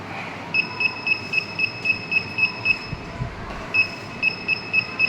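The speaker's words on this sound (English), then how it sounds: "beeper will sound" An ultrasonic-sensor home security alarm beeper sounds a rapid, regular train of short, high electronic beeps, roughly three per second, stopping briefly before resuming, over a faint background hum.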